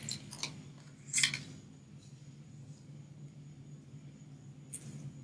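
Scissors cut card decoration material in a few quick, crisp snips, soft and close over a quiet room hum.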